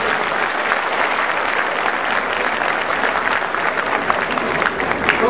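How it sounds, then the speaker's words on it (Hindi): Loud, dense applause from an audience at a Hindi kavi sammelan at Firozeshah Kotla, sustained clapping from many hands filling the whole stretch without a break. "तो इस सहयोग भावना के पहले तो आप कवियों के लिए जोरदार तालियां बजाएंगे।"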